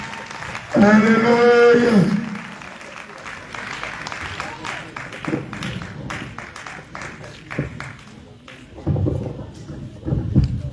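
A church congregation claps in praise after a sung alleluia, with scattered applause under voices and a brief swell of clapping toward the end.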